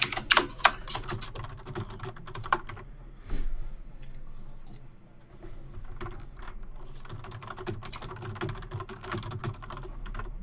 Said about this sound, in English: Your keyboard loud as fuck